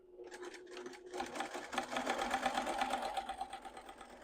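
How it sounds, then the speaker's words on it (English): A sewing machine runs steadily as it quilts straight lines across the front of a fabric pouch. The motor hum and needle chatter start up quickly and continue loud and close with no talk. "I'm going to quilt across these lines going one direction and then back going the other direction."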